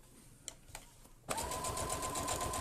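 A sewing machine stitching along a seam while sewing mitred corners and a deep oxford edge, with a few soft taps before it starts up and runs as a steady, fast, close mechanical whirr to the end.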